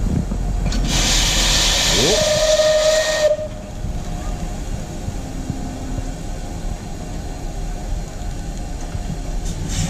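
Steam locomotive on a small excursion railway in Europe, with a loud sustained hiss of venting steam for about three seconds and a clear whistle blast rising within it, then fading to quieter rumbling background.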